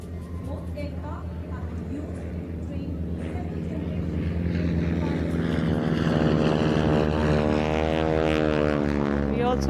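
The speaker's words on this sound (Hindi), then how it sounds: "We also have along with Tiger Moth, the Harvard aircraft being flown today" Tiger Moth and Harvard propeller aircraft fly past at an Indian Air Force Day parade at Hindon Air Force Station, a steady droning engine roar that builds and grows louder toward the end.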